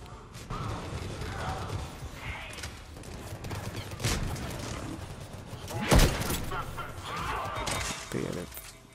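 Assault gun fire from the Xbox 360 shooter Quest for the Best, a dense run of shots and mechanical clatter across the clip, with one loud crack near the end and a voice talking over the action.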